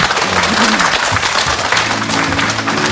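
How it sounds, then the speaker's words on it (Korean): Audience applause at a Korean talk event before a mother and her daughters sing, dense continuous clapping filling the room, loud and unbroken throughout. "박수를 청해 듣겠습니다"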